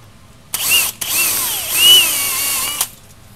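A power drill with a 17/64 bit runs all the way through both pieces of an electric golf cart seat, one loud, close, continuous whine that dips and climbs in pitch under load before cutting off.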